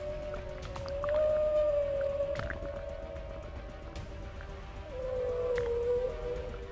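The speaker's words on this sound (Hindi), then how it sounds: "जब दोनों एक साथ तैरते हैं तब ये खास तरह का साउंड निकालते हैं जिसे व्हेल सॉन्ग भी कहा जाता है" Whale song from an adult whale swimming with its calf at sea: long, drawn-out tonal moans that rise and bend, with faint clicks and drips in the background water, the louder calls coming in two separate swells.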